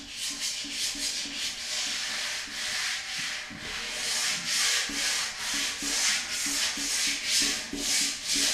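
Sandpaper is rubbed by hand over primer on a car part, giving close, rhythmic back-and-forth scratchy strokes at a steady brisk pace throughout.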